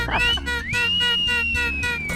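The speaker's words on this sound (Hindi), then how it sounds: "आप हमको देख के सीटी मार रहे हैं" A person whistles a long sustained note that rises and then holds steady at a sweet shop, over busy background noise and music.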